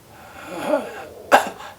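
A person gives a short, wet cough after a breathy buildup, one sharp burst near the end, close and fairly loud.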